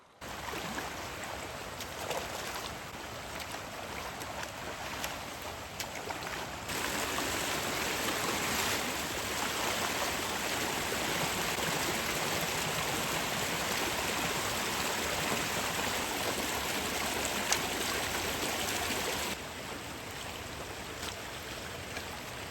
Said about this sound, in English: Water is leaving the channel and going down there